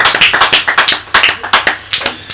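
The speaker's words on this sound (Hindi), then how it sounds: "आप शायद ताली बजाना भूल गए।" Several people in a church audience clap in quick, uneven bursts, sharp close claps in loose rhythm that pause briefly and start again, with no speech over them.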